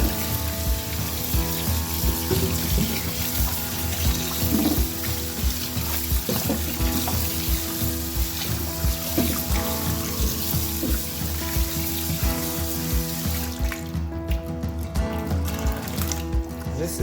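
Cassava being washed in water for mpataka (akpu mmiri), a steady wet sloshing and trickling close by, continuous with small splashes and clinks throughout, no talking.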